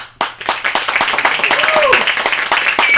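Crowd applause and clapping swelling up at a film festival Q&A session in New York City, with voices and cheering mixed in throughout.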